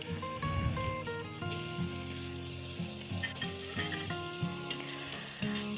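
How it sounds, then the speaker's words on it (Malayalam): Chopped tomatoes tossed into a hot frying pan for an Arabic madhhooth rice dish, sizzling steadily with stirring scrapes, close and continuous with no talk. "ഇതിലേക്ക് നമ്മൾ അരിഞ്ഞു വെച്ച ഒരു 2 വലിയ തക്കാളി ആഡ് ചെയ്ത് കൊടുക്കാം."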